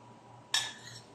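A spoon gives a single bright clink against a bowl while sweet potato and young coconut are mixed for ice candy, set against a quiet room hum.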